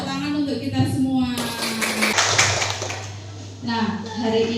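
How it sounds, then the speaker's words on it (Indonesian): A class joins in a short burst of clapping during an ice-breaking activity, lasting about two seconds, with a teacher's voice speaking before and after it. "Tepuk tangan untuk kita semua."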